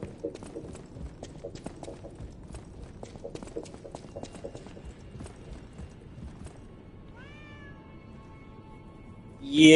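A cat meows in the video game Lies of P, several distinct rising mews near the end over a soft rhythmic backdrop of faint clip-clop-like ticks, then a loud burst closing out.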